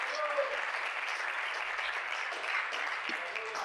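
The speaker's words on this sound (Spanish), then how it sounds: "Hay un aplauso al Señor." A church congregation gives a soft, even round of applause for the Lord, a distant, uniform wash of many hands clapping with no pause.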